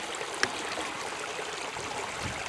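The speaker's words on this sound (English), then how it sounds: "we stare at this creek for 10 minutes straight" A woodland creek flows steadily with a continuous bright rushing and trickling wash, close and even, with one faint click early on.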